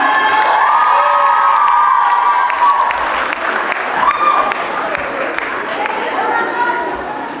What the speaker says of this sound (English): Let's give everyone a big round of applause, especially our winner, Prakriti ma'am.